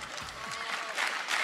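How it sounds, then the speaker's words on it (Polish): A crowd at a Nowoczesna party convention in Warsaw claps for a professor, a fairly faint, even wash of applause heard from a distance, with a voice briefly audible over it. "Gorące brawa."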